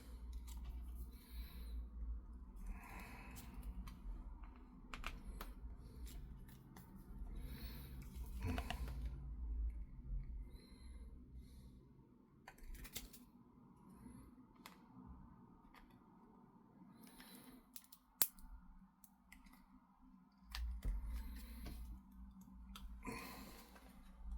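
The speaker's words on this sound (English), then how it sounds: "I'm going to literally just cut into it" Scissors snip into material while a custom Captain America piece is made, a steady run of quiet close cuts and small ticks over a low background hum, with one sharper click near the end.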